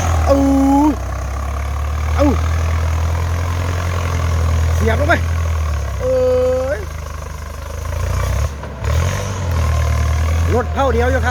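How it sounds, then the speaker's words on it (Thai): A Ford tractor's steady low engine rumble runs throughout, loud and close, working in the rainy season, with voices calling out over it now and then. "อาจารย์ใบรถไถฟอร์ดครับพี่น้อง"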